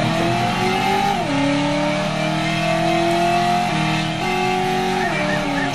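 Car engine in the Driver video game revs loudly and steadily, pitch climbing and dropping through gear shifts, with faint tire noise underneath and no talk.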